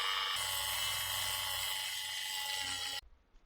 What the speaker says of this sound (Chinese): 用电动雕刻机像车床一样打磨轮子真的很爽